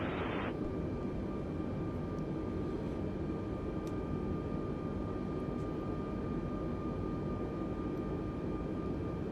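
An Airbus A320neo jet in the Microsoft Flight Simulator game rolls for takeoff on a runway, giving a steady, loud, broadband engine roar with a faint whine that holds unchanged throughout.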